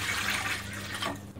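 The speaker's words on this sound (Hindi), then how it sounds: "कुकर में हम 2 गिलास पानी डालेंगे" Water pours steadily into a pressure cooker with a soft rushing splash, close and fairly quiet, continuing for a moment without a break.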